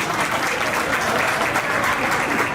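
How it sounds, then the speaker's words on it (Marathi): Loud, dense applause from a crowd at a school batch reunion get-together, a continuous even wash of clapping with no break, close and filling the space. "जोरदार टाळ्या शरद पाटील सरांसाठी"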